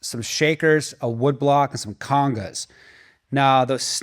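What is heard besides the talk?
No distinct noise like a dog, phone or traffic.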